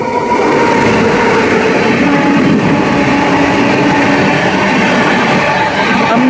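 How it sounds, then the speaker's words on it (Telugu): The MGR Chennai Central–Howrah Mail express rushes past in a loud, continuous roar of wheels and carriages at close range, steady throughout with faint rhythmic clatter. "అదేనండి MGR Chennai central Howrah mail express అయితే వస్తుందండి."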